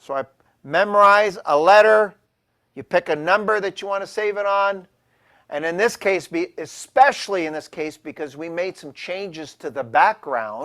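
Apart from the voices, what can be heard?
No distinct noise like a dog, phone or traffic.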